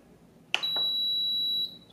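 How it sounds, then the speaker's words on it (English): An Aroma 20-cup digital rice cooker and slow cooker beeps as it is switched on: a soft click, then a single clean, steady electronic tone held for about a second, close and clear in a quiet kitchen. "Turn the unit on."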